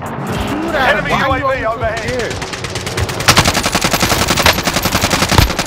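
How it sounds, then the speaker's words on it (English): Rapid automatic gunfire in Call of Duty: Modern Warfare, aimed at an enemy UAV: loud, sustained bursts that build and dominate the second half, following a stretch of voice talk at the start. "Shoot at enemy UAV over here."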